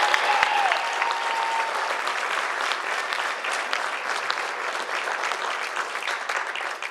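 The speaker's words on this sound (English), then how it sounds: "I ask that we provide a round of applause for this group of seniors" Continuous applause from an audience honoring graduating seniors at a school sports awards ceremony, dense steady clapping filling the whole stretch without letup.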